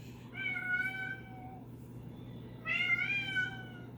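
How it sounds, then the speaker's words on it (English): A house cat meows twice in the background of a quiet room, two drawn-out calls about two seconds apart, the second louder, over a low steady hum. "ignore the cat in the background"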